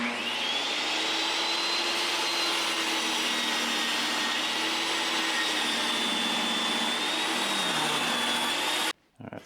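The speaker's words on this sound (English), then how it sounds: "I am just going to cut this on a little DeWalt here" A small DeWalt table saw cuts wood, a loud steady whining buzz whose pitch dips slightly under load before cutting off abruptly near the end.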